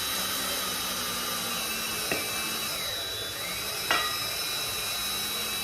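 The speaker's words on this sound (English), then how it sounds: "This drill makes it so much easier." A power drill driving a tomato strainer whines steadily and continuously, close by. Two brief clunks break the hum.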